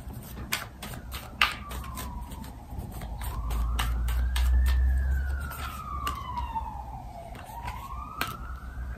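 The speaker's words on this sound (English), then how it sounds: "If you guys could hear that alarm outside, it's an ambulance." An ambulance siren wails outdoors in a noisy residential area, its pitch sweeping slowly up and down across the whole stretch at moderate distance, with a low rumble of traffic beneath it.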